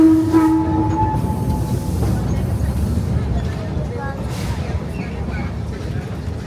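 Redwood Forest steam train running through Santa Cruz mountain forest, a steady loud rumble and rattle of wagons with a brief horn tone at the start and voices faintly underneath.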